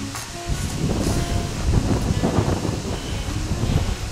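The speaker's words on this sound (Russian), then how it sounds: "По кайфу сейчас ветер." Steady wind buffets the microphone in a continuous low rumble, loud and close, with gusty swells throughout and no voices.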